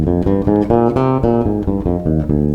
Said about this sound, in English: So a C natural minor scale would sound like this